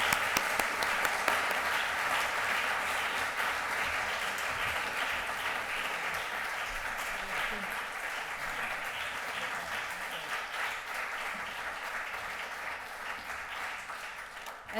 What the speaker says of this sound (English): I want an applause for Casper's effort